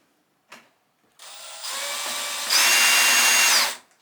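A short click, then a power drill spins up and runs at rising speed for a couple of seconds before stopping, close and loud.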